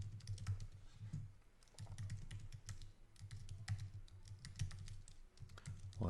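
Keys clatter on a computer keyboard as business details are typed into an online form, irregular bursts of quiet clicks heard close up with no talking.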